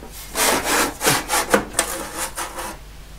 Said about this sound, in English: I've removed the screws from the top cover and I think it just slides off.